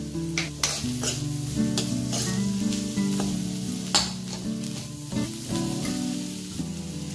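Potato poha fries in a pan on the stove with a steady sizzle while a spoon scrapes and taps the metal now and then, the clinks clear and close.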